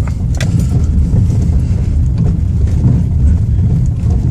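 A car jolting along a badly potholed road near Hrabrovo, Bulgaria, giving a loud, steady low rumble with repeated knocks and rattles from the cabin throughout.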